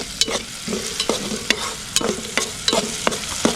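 A spatula scrapes and clicks against a pan as tomato masala with ginger-garlic paste fries for liver masala being cooked outdoors, with sharp irregular stirring taps over a steady, soft sizzle.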